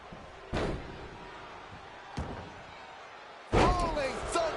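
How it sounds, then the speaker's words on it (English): A wrestler's frog splash landing in WWE 2K25, one of several heavy slams and thuds on the ring mat, the loudest impact near the end amid crowd noise. "Rolling Thunder frog splash."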